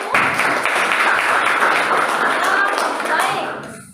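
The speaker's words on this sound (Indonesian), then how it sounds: "sekali lagi berikan tepuk tangan untuk kelompok 1" Classroom applause for a student group, a loud, dense burst of clapping from nearby students that holds steady for several seconds before tapering off.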